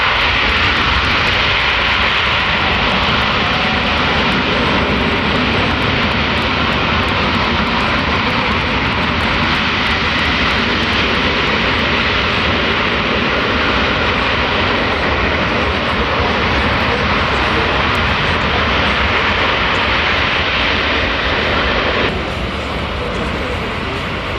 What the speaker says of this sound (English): He touches down. He goes into reverse thrust. He hits the brakes and he stops that airplane